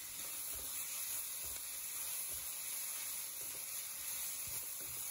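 Lamb with sesame oil and oyster sauce sizzles and hisses steadily in a hot pan for fried rice, a dense, even frying noise, fairly quiet and unbroken, with faint stirring.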